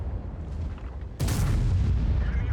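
Artillery fire in World of Tanks: a single heavy boom strikes about halfway through, then a loud rolling rumble lingers after a quieter stretch.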